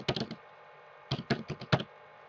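Quick keystroke bursts on a computer keyboard while a search term is entered, a short flurry followed by a pause and another cluster of crisp, close clicks, with no speech.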